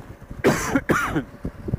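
Two harsh coughs close to the microphone, back to back, followed by a quieter throat clear.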